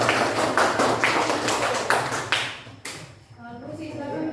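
Classroom applause for a student group: a burst of clapping from many hands that fades out after a couple of seconds, followed by quieter room sounds.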